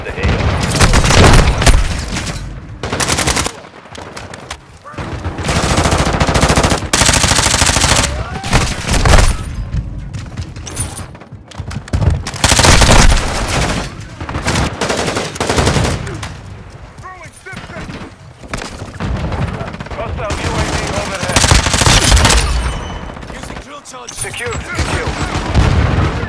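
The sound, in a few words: gunfire in video game Call of Duty: Modern Warfare II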